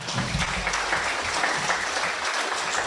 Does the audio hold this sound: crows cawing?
no